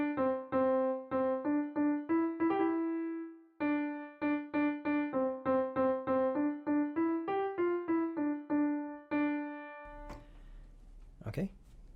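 Two bars of a song played on piano as a simple single-note melody in a lilting rhythm with a short pause midway, ending on a sustained note. Some handling noise follows.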